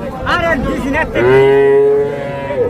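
A young calf moos loudly and close at a cattle market, two short lowing calls followed by a longer drawn-out moo, with faint crowd noise behind.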